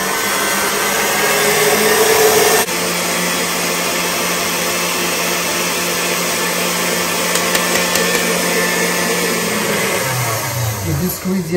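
An electric mixer whips eggs and sugar for a sponge cake batter, a loud steady motor whir that shifts pitch partway through and winds down near the end.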